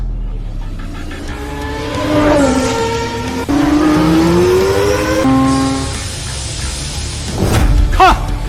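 A race car screams along a track at close range with a loud, rising and falling engine whine as it revs through gears, and brief tire squeal near the end.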